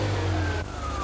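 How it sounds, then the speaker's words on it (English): A fuel-injected Ferrari 348 engine settles at once into a steady, fairly loud low hum, a single continuous running note with a slight dip partway through and no voices over it. "with fuel injection, it's up and running the instant you turn the key"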